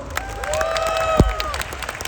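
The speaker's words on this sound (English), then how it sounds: "so round of applause." An audience at the Vegan Camp Out festival breaks into applause with some cheering and whoops, a short, dense burst of clapping heard close by, with voices rising over it.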